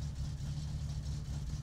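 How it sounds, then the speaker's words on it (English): A four-cylinder car engine idles at about 1,000 rpm in the video game My Summer Car, a low, even, continuous hum with a faint steady pulse, quiet and alone. "like everything, it's idling great"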